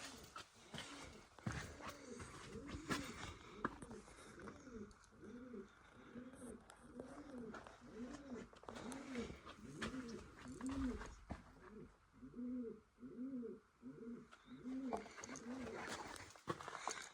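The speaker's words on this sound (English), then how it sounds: "I think that's an owl." An owl hoots at night in Great Basin National Park, a long series of soft, low, evenly spaced hoots, faint and distant over quiet background noise.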